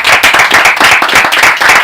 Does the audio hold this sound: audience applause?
yes